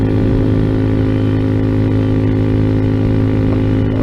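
A Kawasaki Z125 motorcycle engine runs while riding, giving a loud, constant buzzing drone with steady harmonics, heard close and continuous with no talk.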